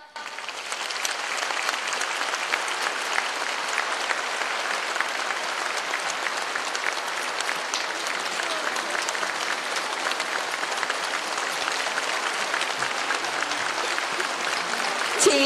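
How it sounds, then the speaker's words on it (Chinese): A large audience at a Buddhist dharma assembly in Sabah, Malaysia, gives a dense, sustained round of applause that holds steady for the whole stretch and swells slightly at the end. "现在让我们用最热烈的掌声恭请尊敬的卢军"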